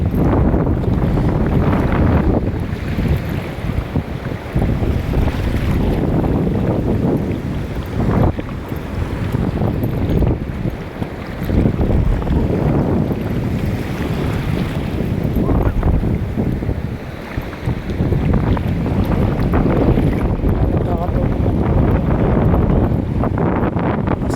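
Strong wind roars steadily against the microphone outdoors during rainy weather, a loud continuous gusting rumble with brief dips and swells throughout, with no talking.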